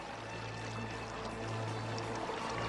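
Water in Assassin's Creed Origins pours and splashes continuously, a steady close rushing sound with no pauses or voices.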